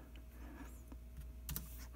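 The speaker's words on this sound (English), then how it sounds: "So let's test out the keyboard." Quiet typing on an iPad Pro keyboard, with a few scattered soft key clicks and a brief cluster of sharper taps near the end over a low steady background hum.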